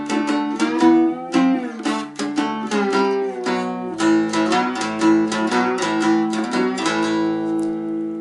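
A two-string cigar box guitar plays a 12-bar blues line with a slide, giving clear plucked notes and gliding pitches in a steady rhythm, loud and close with no talk.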